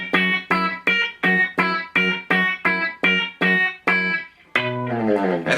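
Distorted electric guitar plays the ending of a song, a run of about ten evenly spaced, heavily driven chord stabs, then a sustained chord sliding downward, loud and alone.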